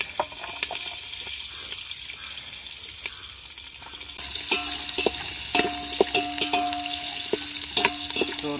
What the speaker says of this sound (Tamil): ஸோ இந்த பெரிய வெங்காயத்தை சேர்க்குறேன்.